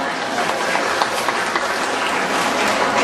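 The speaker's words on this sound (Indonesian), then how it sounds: "Wah, kebayang buat tepuk tangannya dong." An audience in a hospital setting applauds: steady dense clapping from many hands that holds at an even level throughout, with a voice faintly audible underneath.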